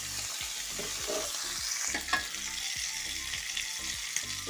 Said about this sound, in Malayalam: നമുക്ക് മറിച്ചിട്ട് കൊടുക്കാം ഈ സൈഡ് കൂടെ ഫ്രൈ ആവട്ടെ